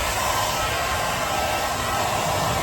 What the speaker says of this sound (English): We're going to use Miss Oxford 821's hair dryer.